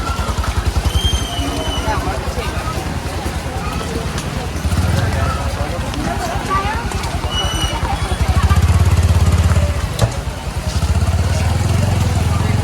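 Motorcycle engines idle and rumble steadily outside a busy temple, close and loud, over a low murmur of crowd chatter.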